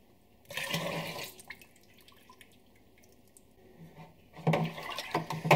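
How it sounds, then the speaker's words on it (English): Cold water pouring into a home brew fermenter for a Muntons black ale extract kit, two loud rushing bursts separated by a quieter stretch of trickling and dripping, heard close with no talking. "So now I'm going to top it up to about 18 litres with cold water."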